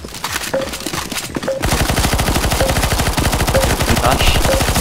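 Rapid automatic gunfire in CS:GO Zombies (Deadcore map) as players shoot at a boss, a fast steady stream of loud shots running nearly continuously after a brief lull, with faint game effects underneath.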